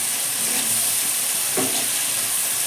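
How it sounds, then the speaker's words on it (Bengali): Tomatoes frying with spices in a pan give a loud, continuous hiss and sizzle, broken by a brief stir near the middle. "আমি টমেটো বেশিরভাগ ভেজেই দিই।"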